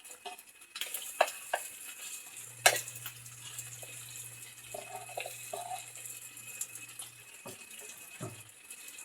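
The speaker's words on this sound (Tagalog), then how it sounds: "Ilagay na ang sibuyas at bawang." Onion and garlic sauté in a pan over a charcoal stove, a quiet sizzle with scattered clinks and scrapes of stirring and a low steady hum through the middle, with no voices.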